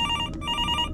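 At a motel reception desk in a video game, a telephone trills with a rapid electronic ring, two quick pulses split by a short gap, fairly quiet over a low hum.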